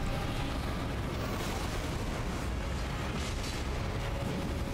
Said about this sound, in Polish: Będzie eksplozja.